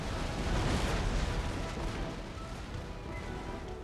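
Warship cannons fire broadsides in Empire Total War naval combat, a dense, continuous rumbling roar of overlapping booms that stays loud throughout with no pauses.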